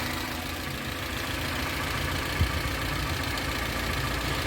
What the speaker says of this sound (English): look how low it revs. It idles when it gets that